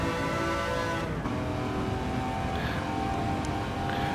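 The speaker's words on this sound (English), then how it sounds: "You can just hear the engine whine of the little Lancia." A high engine whine hums steadily from inside a small Lancia touring race car, loud and constant with a rough mechanical drone underneath.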